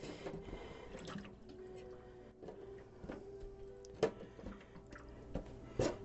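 Water drains from a kitchen sink after the plug is pulled, leaving a soft, steady gurgle and trickle with scattered drips and small splashes, fairly close and quiet.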